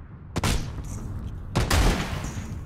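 Two loud shotgun blasts in PlayerUnknown's Battlegrounds, each a sharp broadband crack with a rumbling tail, fired about a second apart at close range with no talk over them.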